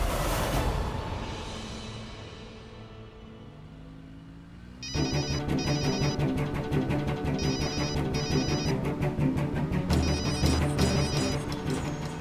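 A telephone rings unanswered, a repeated electronic ringtone pattern in steady bursts that follows a fading musical sting, loud and close with no voices.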